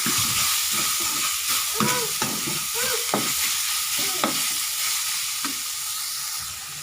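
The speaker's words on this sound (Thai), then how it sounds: "ผัดทุกอย่างรวมกันนะคะ" Pork and chili curry paste stir-fried in a pan with fingerroot, giving a steady close sizzle and repeated scraping clicks of a spatula against the pan that fade slightly toward the end.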